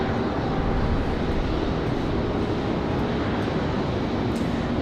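America West airliner departing an airport: a steady broad jet engine roar filling the whole stretch, loud and unbroken.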